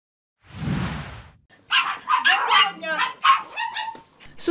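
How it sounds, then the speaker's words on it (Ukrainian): Dogs bark in the yard of a private house that keeps about thirty rescued dogs from Kherson, with one loud bark burst followed by more barking mixed with people talking. "Кожна з 30 собак Ірини має прізвисько"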